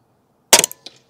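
A single rifle shot at a shooting range: one sharp, close crack bursting out of silence, with a brief ringing tail and a faint click just after.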